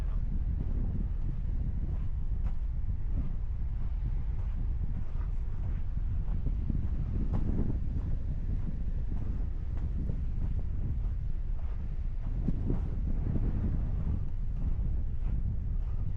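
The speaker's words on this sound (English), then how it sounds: "we got 22-mile-an-hour gusts right now" Strong wind, gusting to 22 mph on a beach, buffets the microphone in rough, roaring gusts that swell and ease continuously, with no voices.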